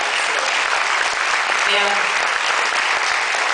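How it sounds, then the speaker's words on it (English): An audience applauds at the film premiere of The Seduction of Ingmar Bergman, a dense, continuous wash of clapping that fills the room at steady loudness, with a voice briefly speaking over it. "we'll give them an applause in Los Angeles"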